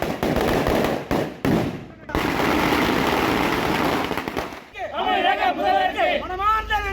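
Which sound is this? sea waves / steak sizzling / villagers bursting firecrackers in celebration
villagers bursting firecrackers in celebration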